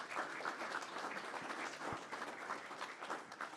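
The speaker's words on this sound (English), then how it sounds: "So give them a round of applause." A school board meeting audience breaks into steady applause for the boys track team representatives, a dense, continuous wash of many hands clapping at moderate distance for several seconds.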